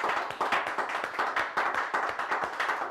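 A crowd at a direct-selling training session breaks into enthusiastic, steady clapping, with many hands striking in a dense, continuous patter and nobody speaking.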